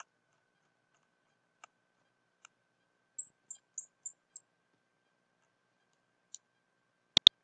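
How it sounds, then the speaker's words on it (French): Computer mouse clicking while a 3D vase model is built in design software, sparse faint single clicks, a short run of quick clicks in the middle, then a sharp double click at the end, in a quiet room. "Je clique sur les deux."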